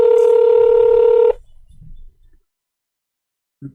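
An internet phone call being dialed: a loud, steady dual-tone telephone beep holds for over a second, then cuts off into faint rustling and a brief low thump.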